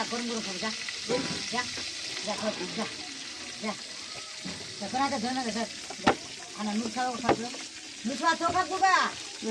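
Frying in hot oil in a pan, a steady crackle running under a voice and some higher, child-like voices throughout, with a sharp clatter near the middle.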